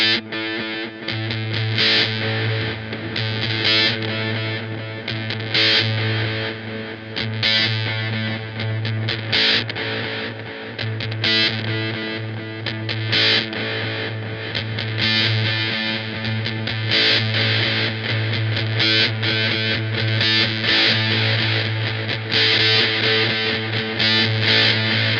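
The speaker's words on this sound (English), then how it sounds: "as you turn it clockwise, it starts to take out some of the lows, and you just get that really kind of thin and bright, raspy sound" An electric guitar runs through a Duplo delay pedal with the low end cut away, giving a thin, bright, raspy tone. The playing is steady and continuous, with a distorted, effected sound throughout and no talking.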